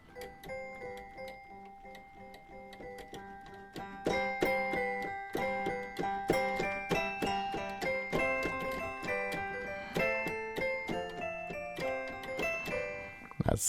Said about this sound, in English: That one is one of my favorite ones in this whole library right here of the Jingle Bell Trap sounds.